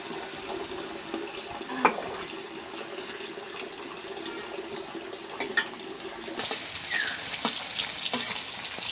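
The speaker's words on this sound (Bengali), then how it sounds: "মাছ ভাজা হয়ে গেছে, উঠাই না, একটু কড়া করে ভাজলাম।" Fish sizzles in oil with a low steady hiss and a few clatters, then the frying grows suddenly louder and brighter for the last few seconds.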